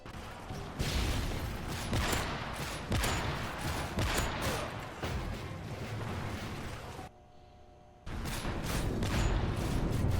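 Gunshots in Call of Duty Black Ops, dense rapid fire and impacts filling most of the stretch, broken by a brief near-silent gap before the shooting resumes.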